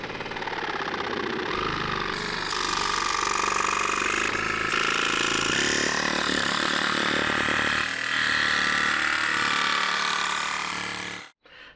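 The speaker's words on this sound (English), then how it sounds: "So you can see the jigsaw made very quick work of this cut." A jigsaw cutting through a roof to make a vent opening, a loud, continuous buzzing saw run for about eleven seconds that stops abruptly near the end.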